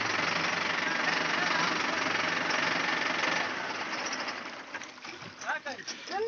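Sonalika Sikander 60 RX tractor driven at full speed into a canal, its engine giving a loud steady rumbling drone that eases and fades partway through, with splashing and talk toward the end.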